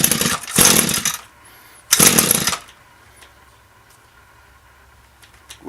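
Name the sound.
Echo string trimmer engine running at throttle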